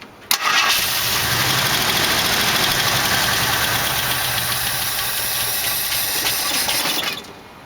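A 1968 AMC AMX with a 401 engine cranks and fires, then settles into a loud, rough, steady idle close by before cutting off after about seven seconds.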